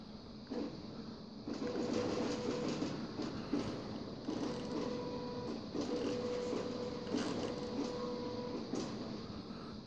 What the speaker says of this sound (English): So we'll move 1 millimeter on the Y-axis.